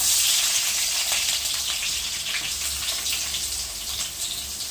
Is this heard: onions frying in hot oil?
yes